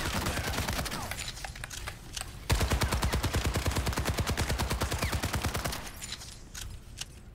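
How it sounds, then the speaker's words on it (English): Rapid, loud bursts of rifle fire from Soldier's weapon in Overwatch 2, a long steady automatic volley with short pauses around it. "Listen to Soldier's weapon."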